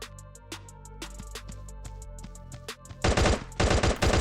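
Assault rifle fire in the Guns of Boom shooter game rattles out in rapid bursts of sharp shots over music, then a louder, denser full-auto burst closes it.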